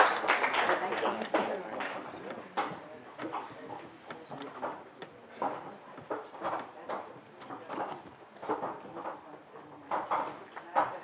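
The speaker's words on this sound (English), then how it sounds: "Let's give a round of applause to our mentors." Scattered applause at a graduation ceremony for the mentors, sparse uneven claps continuing for several seconds at moderate distance, with voices murmuring beneath.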